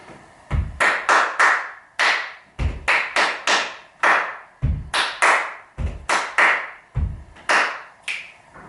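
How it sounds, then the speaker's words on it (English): A body percussion routine played without words: deep foot stamps alternating with sharp hand claps in a steady repeating pattern, closing on a finger snap, close and crisp. "stamp, clap, clap, clap, stamp, clap, clap, stamp, clap, clap, stamp, clap, snap"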